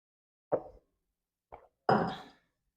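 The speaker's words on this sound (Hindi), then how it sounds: "मैं थोड़ा सा पानी पी लूं।" Someone takes a small drink of water, making three separate wet gulping swallows spaced over about two seconds. The last gulp is the fullest, and the sounds are quiet and close in an otherwise silent room.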